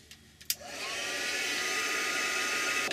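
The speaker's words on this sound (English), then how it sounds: "Now it has to dry, and I will do that with the heat gun." A heat gun switches on with a click and settles into a steady, close whooshing blow of air while drying gesso and paint, the even roar holding to the end.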